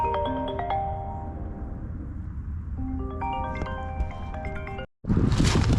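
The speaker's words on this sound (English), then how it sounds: "Phone's ringing." A phone's electronic ringtone chimes in repeated melodic bursts with a short gap between phrases, outdoors by a creek, then cuts off abruptly into a loud rush of noise.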